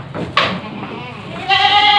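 Goats bleat while being fed a mixed cassava-pulp ration, one harmonic bleat cutting in early and a longer, louder bleat sustained toward the end, with farmyard background noise and a voice in between.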